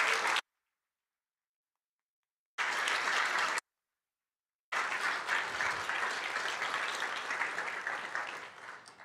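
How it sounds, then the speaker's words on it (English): Audience applause at a county managers excellence awards ceremony, bursts of clapping separated by abrupt silent gaps, then a longer sustained round that gradually fades, with no talking. "so give Shannon a round of applause"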